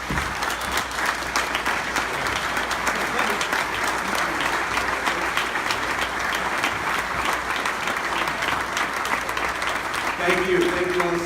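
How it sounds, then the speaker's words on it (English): Banquet crowd at a bass fishing hall of fame induction ceremony applauding an inductee, sustained thick clapping filling the room at an even level, with voices mixed in near the end. "I love that applause"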